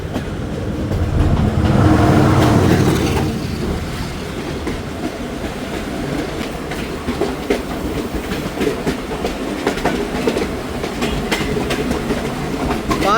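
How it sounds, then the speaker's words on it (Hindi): Passenger train passing at Lahore station, a loud rumble up close at first, then steady clickety-clack of wheels over rail joints as the carriages roll by. "लाहौर पहुँची है दोस्तों ट्रेन, तो सामने से जा रही है।"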